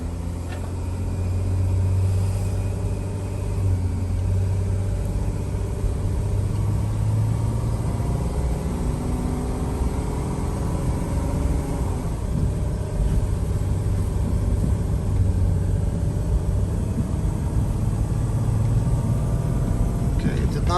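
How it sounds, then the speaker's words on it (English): A car engine, undergoing a DPF regeneration, is revved with the gas pedal pressed fully down, producing a loud, steady low rumble that holds throughout with a slight rise in pitch. "watch what happens when I press the gas pedal all the way down"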